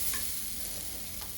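Fennel seeds frying with ginger garlic green chilli paste for a prawn dum biryani, a quiet continuous sizzle with faint scraping of a spoon stirring in the pan.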